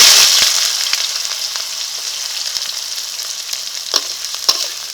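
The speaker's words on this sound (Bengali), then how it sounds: "আস্তে আস্তে ভালো করে ভেজে নেব পেঁয়াজটাকে" Onions fry in hot oil with whole cumin, a loud close hiss that eases slightly after the first second, dotted with a few sharp spoon taps and crackles, no speech.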